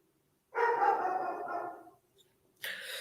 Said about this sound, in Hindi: कुत्ते भौंकने की आवाज आ रही है